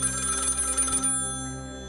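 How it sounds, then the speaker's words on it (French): A telephone bell rings loudly and continuously for about a second, then cuts off, leaving a lingering electrical hum. "le téléphone sonne"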